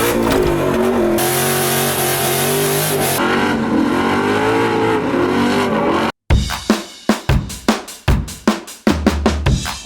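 A Ford Mustang Dark Horse fitted with Stainless Works long tube headers roars loudly under sustained acceleration, then after a brief cut snaps through a rapid series of sharp revs and throttle blips.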